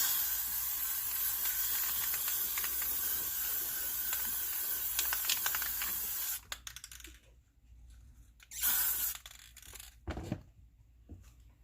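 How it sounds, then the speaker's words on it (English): A long continuous hiss of spray paint over coasters for several seconds, then quieter handling noises and a couple of short bursts of spraying. "I'm going to just spray this really quick over these to make it all nice and pretty again"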